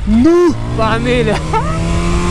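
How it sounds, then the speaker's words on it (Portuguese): Superbike-class S1000 motorcycle engine revving hard during a wheelie, a loud rising whine in the opening half second that drops back to a steady idle drone, with a person talking over it. "toma tiradona de giro de S1000 no grau"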